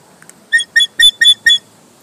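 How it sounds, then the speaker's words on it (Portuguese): A shrill, bird-like ceremonial whistle sounds five times in a quick, even series of short, loud chirps, close and clear against silence. "E você apita o tempo todo"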